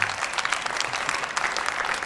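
An audience applauds a dance performance at a gala show, with sustained, dense clapping throughout and no voices.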